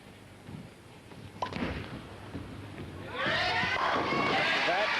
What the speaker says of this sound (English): Listen to the crowd. They're right behind him.